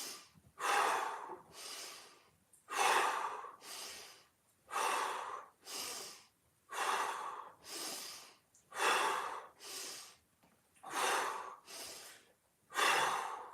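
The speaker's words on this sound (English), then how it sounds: "Inhale, exhale. Nose, mouth. Nose, mouth. Inhale. Inhale, nose." Deep, slow breaths during a hip mobility workout, drawn in through the nose and blown out through the mouth, about a dozen close, loud inhales and exhales alternating at a steady rhythm.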